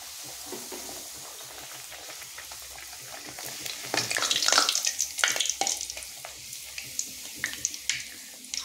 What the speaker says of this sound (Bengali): তো তেলটা গরম হয়ে গেছে। এরপর এখানে সমস্ত লুচিগুলো দিয়ে আমি সুন্দর করে